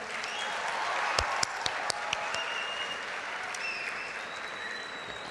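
Steady applause from a crowd at the ICFAI convocation, dense and continuous, with a few sharper individual claps standing out.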